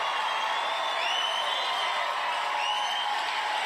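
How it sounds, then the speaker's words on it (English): At a Donald Trump 2024 campaign event in New Hampshire, a large crowd gives sustained, steady applause with scattered whoops and cheers throughout a standing ovation. "That's the applause line of the night. Standing ovation."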